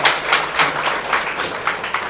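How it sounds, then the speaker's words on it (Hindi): Dense, steady applause from an audience at an RCM business success-story gathering, many hands clapping together in a continuous wash with slight surges, filling the room at moderate loudness. "एक बारी जोरदार ताली बजा दीजिएगा"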